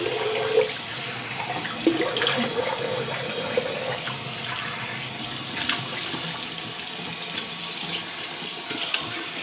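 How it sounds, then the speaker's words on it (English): Water from a bathroom sink tap runs steadily for a quick rinse, a close continuous splashing stream with a few small knocks and clinks as things are handled. "Let me just do a quick rinse here."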